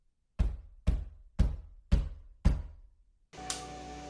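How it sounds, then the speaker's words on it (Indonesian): Five sharp, evenly spaced knocks on a window, loud and close, each about half a second apart, followed by a burst of broadband noise with no voices. "jendelanya itu berbunyi kayak ketukan gitu loh"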